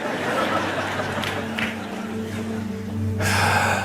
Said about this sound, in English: No, just I physically breathe.